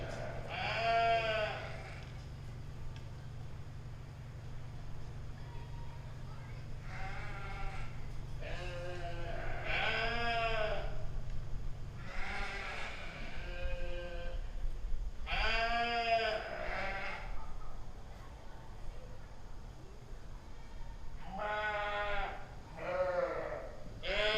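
Blackface ewes at a 4-H sheep show bleat in repeated wavering calls, some close and loud, others farther off, with a low steady hum of the show barn beneath and almost no talk.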